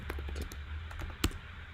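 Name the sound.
typing on a computer keyboard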